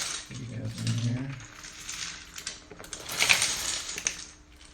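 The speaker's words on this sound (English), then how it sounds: "put a massive number of keycaps in here." Plastic keycaps from an Epson Q703D-AA Topre keyboard pour from a bag into a container as a close, busy clatter of small pieces. A brief low vocal sound comes early, and a denser burst of rattling follows near the end.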